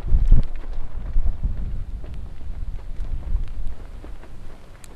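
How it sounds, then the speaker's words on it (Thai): Strong wind buffeting a microphone outdoors as rain begins, with low rumbling gusts that rise and fall continuously and no clear talk. "ลมแรงมากค่ะ"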